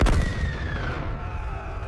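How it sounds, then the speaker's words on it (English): Gunfire sound effect in a history documentary about the First Anglo-Afghan War: a heavy booming shot at the start rolling into a long, fading rumble, distant and without voices. "Every cliff above the retreat became another deadly source of unstoppable gunfire."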